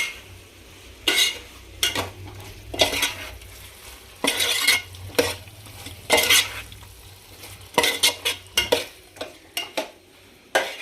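A spoon stirs sambar ingredients in a pot, giving repeated scraping and clinking strokes in irregular bursts over a faint low background, close up and with no talk.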